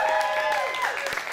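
Audience applause at the end of a live comedy show, a steady dense patter of clapping heard under tonal music or voices, short and continuous at moderate loudness.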